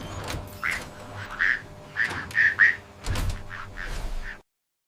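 Pekin ducks on a duck farm quack in short bursts, a cluster of nasal calls from a few birds close by, with some low thumps underneath before the sound cuts to silence.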